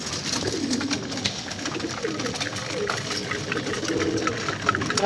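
A flock of pigeons pecking at grain coo repeatedly close by, with a mechanical whirr and scattered rustling underneath and a person talking at times.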